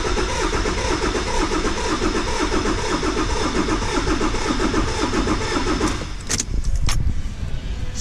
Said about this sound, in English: then we're going to go over and crank the engine and see what happens